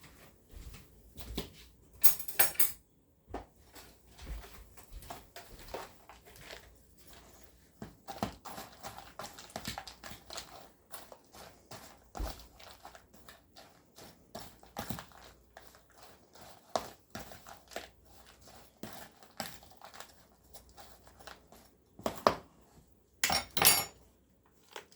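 Onions being stirred together in a pan for a macaroni dish, heard as light scattered clinks and scrapes of a utensil against cookware, fairly quiet and irregular, with a few sharper clatters near the start and end.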